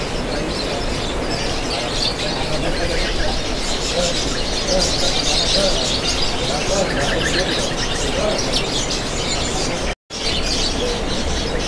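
Many caged birds at a kiosk in Pramuka bird market chirping and cooing continuously, a dense busy chorus with crowd murmur underneath, fairly near.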